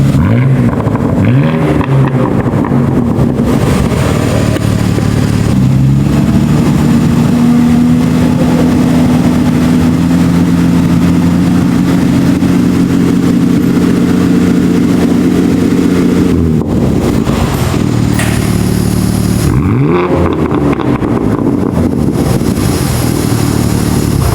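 BMW G87 M2 engine with an AWE Track Edition exhaust, loud, deep and throaty, holding a steady raised idle with a few revs rising and falling, running continuously up close.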